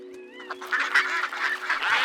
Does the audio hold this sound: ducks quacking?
yes